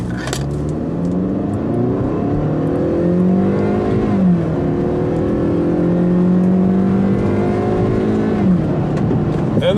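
2015 Hyundai Sonata Sport with a 2.0L turbo launching hard from a brake-torque start, engine note climbing through rising revs with distinct gear-change dips, loud and continuous from inside the car.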